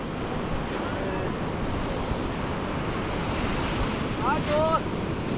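Ocean waves wash continuously onto the Arabian Sea shore in a broad, steady roar, mixed with gusty wind buffeting the microphone and a brief faint tonal call near the end.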